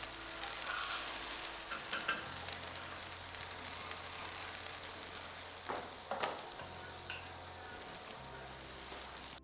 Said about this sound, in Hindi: इसको फ्राई करके फिर मैं आपको दिखाती हूँ